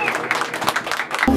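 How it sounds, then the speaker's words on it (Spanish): Applause at a mariachi birthday celebration, a steady patter of clapping from a small group lasting just over a second, with voices mixed in. "Bonito ese aplauso."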